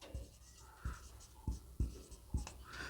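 A marker or chalk scratches across a classroom board during a Hindi-language English grammar lesson, in five short, distinct strokes spaced about half a second apart, close and fairly quiet, with no talking.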